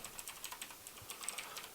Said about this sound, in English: we're going to do a little bit of typing here